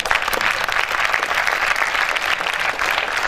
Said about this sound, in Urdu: اس ایوان میں جتنی بھی تالیاں بجیں، ہر تالی ایک جذبہ ہے